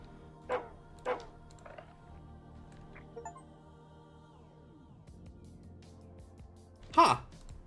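A small white dog in a video game barks in sharp, separate yaps: two near the start, fainter yips in the middle and a louder bark near the end, over a quiet, steady game hum.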